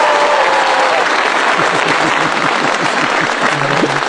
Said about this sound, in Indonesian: boleh deh tepuk tangan sama Faisal